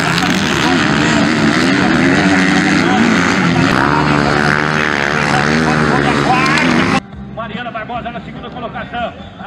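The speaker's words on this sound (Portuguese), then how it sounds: "ela vem subindo a ladeira, a Bianca, ela vem na primeira colocação, ela vem acelerando forte" A velocross motorcycle accelerates hard up a slope during a free-class race at a training center in Eldorado, a loud continuous engine roar under excited race commentary, with the sound dropping off abruptly near the end.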